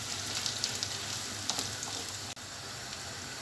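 Rice and tomato paste frying in a pan while being cooked down for stuffed vine leaves, a steady close sizzle with a few sharp crackles and a brief dip partway through, no voices.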